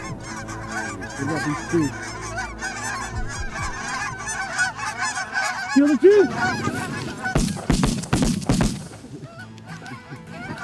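Snow geese honk repeatedly during a waterfowl hunt, a dense overlapping chorus of nasal calls from a flock, with a louder nearby honk around the middle and brief shouted voices near the start.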